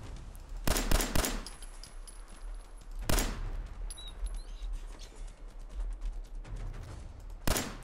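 Separate bursts of gunshots in Fallout 4, a quick cluster near the start, then single loud shots spaced across the clip over a low ambient background.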